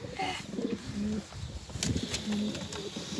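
Pigeons in an Adana pigeon coop give repeated soft, low cooing calls in short bursts, with a brief flutter of wings, close by against steady coop background noise.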